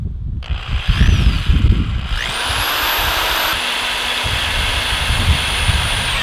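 Scrapes and knocks, then a power drill whines up and runs steadily through stainless steel coping on a halfpipe, its high pitch holding throughout.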